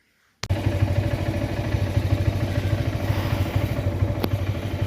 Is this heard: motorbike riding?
yes